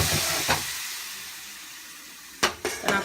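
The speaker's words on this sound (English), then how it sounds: "Then I actually pour a little water over it." Water poured into a hot pot of vegetables, whiting fillets and shrimp sets off a loud broad hiss of steam that fades, then flares again in a few quick bursts, close up with no talk.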